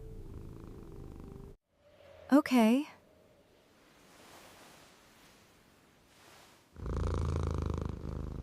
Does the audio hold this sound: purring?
yes